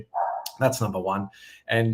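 Dogs bark and yip in the background near the start, under and between a man's steady speech, fairly faint and brief.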